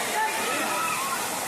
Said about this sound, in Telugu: సో మీరైతే చూడొచ్చు, ఇదే వాటర్ ఫాల్.